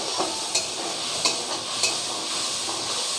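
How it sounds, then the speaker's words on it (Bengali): Red chili powder and turmeric sautéing in hot oil give a steady, close sizzle, broken by about three sharp spoon scrapes against the pan as the spices are stirred. "দিয়ে ভালো করে কষাবো মশলাগুলো"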